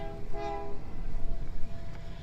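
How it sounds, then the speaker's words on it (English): Train horn blasts sounding at a railroad crossing, a short tonal blare early on that fades under rumbling rail noise and ambient din, moderately distant. "two train horns"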